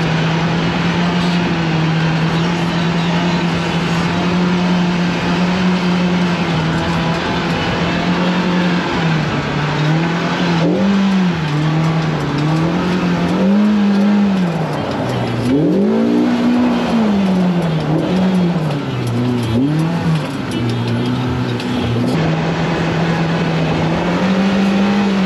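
Polaris RZR Pro R side-by-side driving through the Glamis sand dunes, a loud continuous engine drone with the pitch rising and falling as the throttle changes, heavy wind noise over it.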